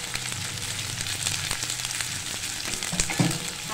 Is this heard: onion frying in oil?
yes